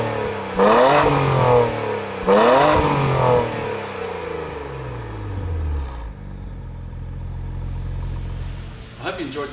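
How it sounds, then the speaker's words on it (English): A Dinan-tuned BMW 335i S3 with cold air intake revs hard twice, the exhaust climbing and falling in loud close sweeps before settling into a steady idle rumble and a final short blip. "We worked a lot of time on the acoustics of it so that it sounds really cool when you're on the gas."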